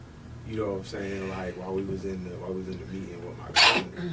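A single sharp sneeze bursts out near the end while someone talks steadily in a podcast conversation.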